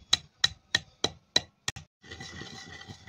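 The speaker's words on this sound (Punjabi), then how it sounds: "1 ਚਮਚ ਆਪਾਂ ਸਾਬਤ ਧਨੀਆ ਲੈ ਲਿਆ, ਤੇ ਇਹਨੂੰ ਆਪਾਂ ਕੁੱਟ ਲੈਂਦੇ ਹਾਂ" Whole coriander seeds pounded for kachalu kofta spice, five or six sharp, evenly spaced knocks close by, followed by a softer grinding rub.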